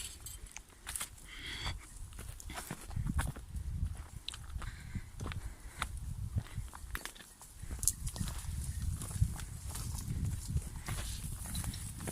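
Sheep and lambs walk along, their hooves making a steady run of light, uneven clip-clop footsteps close by, with broadband shuffling and rustle underneath and no clear voices.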